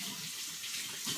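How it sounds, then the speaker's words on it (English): Water runs from a kitchen tap in a steady close stream during a brief hand wash. "Let me wash my hands real quick"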